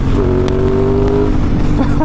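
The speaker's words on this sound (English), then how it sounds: "Let's give it a little rev bomb here, shall we?" Aprilia Tuono 660 Factory parallel-twin motorcycle engine revving in a short, loud burst, its pitch climbing and holding before dropping back, with no talk over it.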